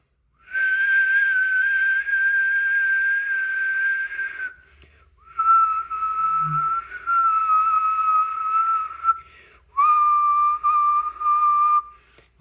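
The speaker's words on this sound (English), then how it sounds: "If I whistle," A person whistles steady sustained tones near a keyword-spotting development board, three long held notes separated by brief pauses, loud and alone with no talk.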